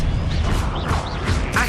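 Expelliarmus spell cast in the video game Hogwarts Legacy, a dense magical whoosh with shimmering tonal sweeps and a sharp burst near the end, loud and continuous over game sound.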